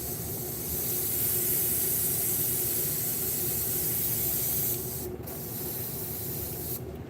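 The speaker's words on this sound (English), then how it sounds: "And spray here and make sure that we're not getting a bunch of green on there" Airbrush spraying paint in a garage, a steady close hiss running almost without a break and briefly cutting out twice near the end.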